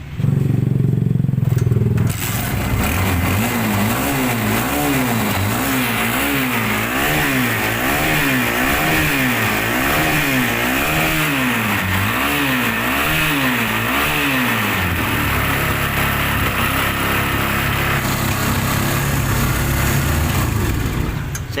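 A Kawasaki Barako motorcycle engine, freshly repaired after a locked kick-starter, is blipped in rhythmic, repeated revs that rise and fall close by, then settles into a loud, steady idle.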